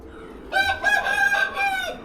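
A cockerel crows loud and close on a farm crowded with chickens and pigeons, one sustained crow of about a second and a half rising out of quieter background clucking and outdoor noise.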